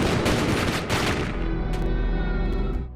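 Police open fire in a Jason Statham action film scene: a loud, close burst of rapid overlapping gunshots, then fading echoes and ringing as the volley stops.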